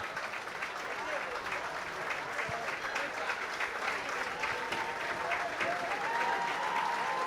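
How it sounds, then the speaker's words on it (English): Spectators at a schools senior rugby match between St Mary's College and Wesley College applaud, a steady wash of clapping and crowd noise that swells slightly toward the end, with a commentator talking over it. "a warm round of applause"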